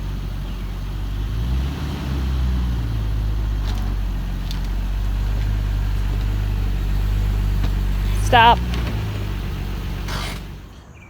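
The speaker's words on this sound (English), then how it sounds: "we're going to go ahead and get this thing up on ramps and get started" Nissan R34 GTR V-Spec idling and creeping forward at low revs as it climbs onto race ramps, a steady close engine drone with a brief surge near the end, then cutting out, while a voice calls out a short instruction.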